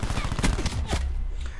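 Rapid bursts of gunfire from the video game Black Ops 4 crack out in a quick fusillade, several sharp shots packed into under two seconds amid game noise and faint talk.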